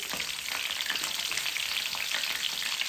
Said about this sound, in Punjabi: ਤੇਲ ਗਰਮ ਹੋ ਗਿਆ ਹੁਣ ਇਸ ਵਿੱਚ ਆਪਾਂ ਗੋਭੀ ਪਾ ਦੇਵਾਂਗੇ